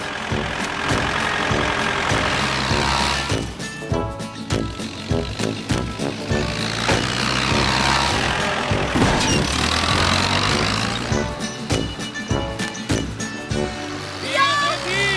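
Cartoon little red tractor pulling away, its chugging engine running under busy background music and voices throughout.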